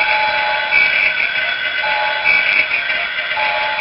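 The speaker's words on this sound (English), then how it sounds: "That's supposed to be the inside sound of the bridge, you know, that weird little whistle sound" A Playmates Enterprise 1701 toy starship's bridge effect plays a steady, loud electronic whistling tone with a slight wavering pulse, alone and continuous.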